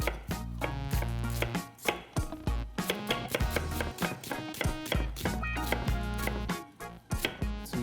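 A knife julienning an onion on a cutting board: rapid, even chops strike the board in a steady rhythm, close and crisp, alone without talk.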